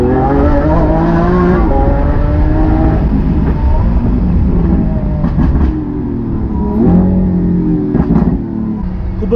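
Lamborghini Aventador S Roadster engine revving under manual control, a loud, close, continuous growl with rising and falling pitch through the whole stretch.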